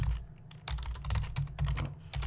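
Fingers type quickly on a computer keyboard, close and distinct, with bursts of rapid key clicks separated by brief pauses, no talk.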